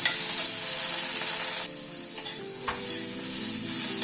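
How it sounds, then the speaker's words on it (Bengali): Baby corn fries in a pan with a steady, close sizzle and hiss, broken by a brief stirring knock. "কর্নটাকে একটু ভেজে তুলে নিলাম"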